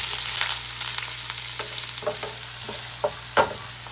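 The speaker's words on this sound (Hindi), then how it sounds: "ऑयल डालने के बाद हमें अब इसमें प्याज डाल देंगे। प्याज को हल्का सा ब्राउन करना।" Onions frying in oil in a frying pan for masala fish give a steady, close sizzling hiss, broken by a few sharp clacks of stirring, with no talk.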